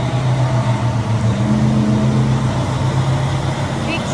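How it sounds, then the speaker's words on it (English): A big truck rolls past outside, a steady low engine rumble and drone holding loud throughout with faint higher noise on top. "Big truck just went by"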